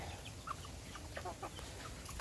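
Chickens at a rural farmhouse garden give soft, scattered clucks in a short, faint stretch against steady low background noise, with no talking.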